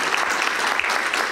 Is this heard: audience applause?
yes